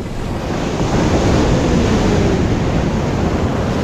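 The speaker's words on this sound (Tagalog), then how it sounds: "Ang lalaki ng alon." Big ocean waves break on the beach at Dingalan in a continuous loud roar of surf, with wind noise on the microphone throughout and no voices.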